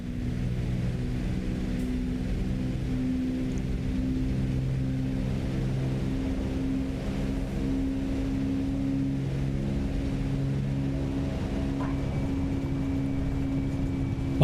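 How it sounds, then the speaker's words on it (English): A Cessna 404 twin piston engine drones steadily in Microsoft Flight Simulator 2024 while coming in to land, a constant low, tonal hum with layered harmonics, loud and unbroken for the whole stretch with no voices. "sometimes the engine thrust isn't accurate when we replay, so that's what you're hearing right now"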